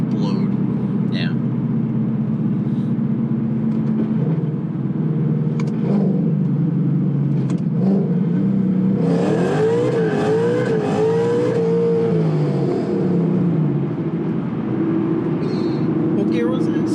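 A 750-horsepower Roush supercharged Mustang GT with quad tailpipe tips gives a steady engine rumble from inside the car, swelling into a rising rev and then settling back down, with occupants talking throughout.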